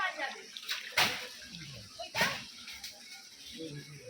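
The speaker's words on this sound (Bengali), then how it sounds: "রাস্তাতে চারিদিকে জল একদম ভেসে যাচ্ছে" Floodwater surging across a village road and all around the houses, a rushing, splashing wash with a few louder gushes, heard close by under a speaking voice.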